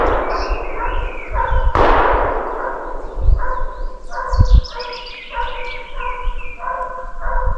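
A distant gunshot during a wolf hunt in Tsalka, Georgia, comes as a single sharp broadband crack near the middle, set among repeated dog barks and yips, with someone speaking at moments.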